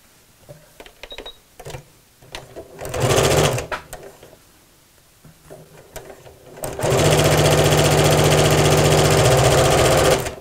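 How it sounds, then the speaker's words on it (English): Sewing machine stitching across the top of a fabric tote bag: a short burst, then a long steady run of fast, loud needle hum. "we're going to sew across the top here and across the top there"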